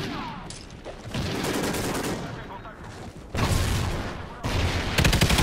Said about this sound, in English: Here, have a grenade. Have another one.